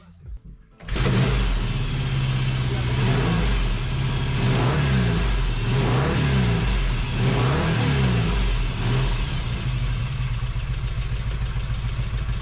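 A Norton motorcycle engine under restoration starts after a brief quiet moment, then runs continuously with a steady, loud mid-pitched beat and a few rhythmic swells of revving, close to the microphone.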